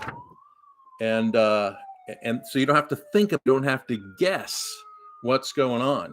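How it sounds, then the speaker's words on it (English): Police sirens pass outside, a faint rising and falling wail far in the background beneath someone talking steadily up close. "I've got sirens going on in the background"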